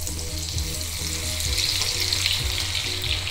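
Cauliflower pieces deep-fry in oil with a loud, continuous bubbling sizzle that stays close and steady throughout, with no voices.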